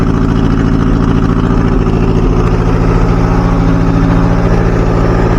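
A 1977 Chevy Luv engine running with no exhaust fitted, loud raw mechanical roar close up, steady throughout with slight rises as it is revved.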